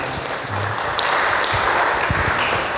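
A church congregation at a Sunday service claps together, a dense burst of hand applause filling the room at close, loud level, with no one speaking over it.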